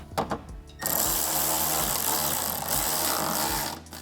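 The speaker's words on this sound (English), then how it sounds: "Tighten that nut back down." A power tool whirs steadily for about three seconds to run a nut back down on a ground point of a 2014–2015 GMC Sierra pickup, close and loud, after a few short clicks.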